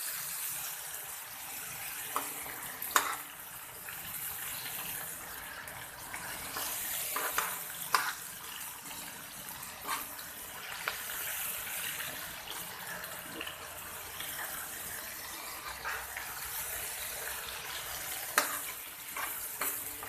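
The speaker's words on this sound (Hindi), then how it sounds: "कीमे को ऑयल में कम से कम 10 मिनट भूनना है।" Minced mutton keema on the bone frying in oil in a karahi, a steady sizzle broken by repeated clinks and scrapes of a spoon stirring, close and unhurried, no voices.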